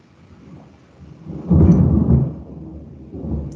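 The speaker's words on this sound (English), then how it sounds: "Got a little bit of a storm today cooking." Rolling thunder from a thunderstorm: a low rumble that swells sharply midway, then slowly fades and rises again, with a soft wash of rain beneath and no voices.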